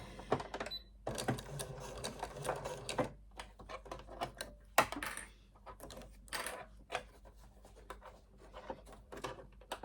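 A sewing machine stitches a bag handle on a zipped project bag in a continuous, close, rattling run, broken by brief pauses and small clicks.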